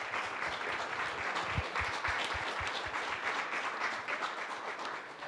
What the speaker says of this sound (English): So if we could all just give our panelists a hand of applause.